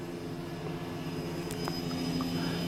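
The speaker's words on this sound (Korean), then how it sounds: "지금 헬기를 타고" A helicopter flying toward a high mountain produces a steady, droning engine hum that runs continuously throughout at moderate distance, with no voices.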